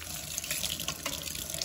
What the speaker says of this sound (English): now I'm gonna rinse it off with, again, lukewarm water, not too hot, not too cold